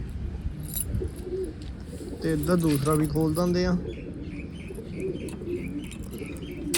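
Pigeons in a rooftop loft give soft cooing calls with a few chirps and wing flutters, close by, while someone talks over them for much of the time.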